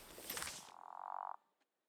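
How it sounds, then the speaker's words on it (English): A single frog croak in the video game Season: A Letter To The Future: a bright rasping burst followed by a buzzy pulsing tone, then a faint tick, all isolated and clear. "Sound of frog."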